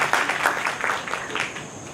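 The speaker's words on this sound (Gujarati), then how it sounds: "તાળીઓ, ખરેખર તાળીઓ." An audience at a Jain school lecture event breaks into applause, a fairly close patter of many hands clapping that steadily tapers off over a couple of seconds.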